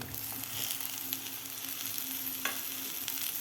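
Masala-stuffed eggplants being added to sautéed spice paste in a pan, sizzling steadily with a brief stir clink, close and continuous without any talking.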